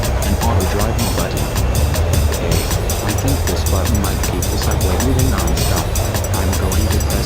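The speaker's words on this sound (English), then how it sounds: "I press this button so the subway keep moving without stopping." Animated subway train running continuously without stopping, a steady low rumble and rolling rail noise, loud and sustained throughout with voices talking over it.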